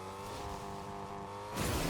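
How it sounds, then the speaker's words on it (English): A car in the Fortnite video game drives along with a steady, droning engine hum that rises into a rougher, louder rush near the end, faint and without talk. "I would not want to be driving around in this car though."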